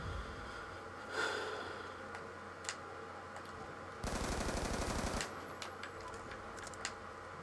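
Automatic gunfire from the video game Call of Duty: Black Ops II rattles in a sustained burst of about a second, surrounded by softer clicks and a steady background hum.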